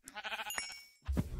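Cows in the video game Minecraft give two short lowing calls, a buzzy moan followed by a brief deeper grunt, fairly faint and close together.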